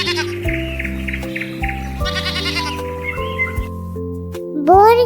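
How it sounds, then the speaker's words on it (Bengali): A young goat kid gives one short, loud bleat near the end, rising over a bright melodic musical backing. "ছতে ছাগল, ছাগল ছানা"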